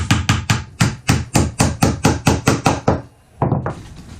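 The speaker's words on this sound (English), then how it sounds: "Go ahead and put your 4 nails in. Make sure that you are getting into those corner pieces." A hammer drives nails into the wooden corner pieces of a planter box: about a dozen loud, evenly spaced close strikes, a short pause, then one more blow.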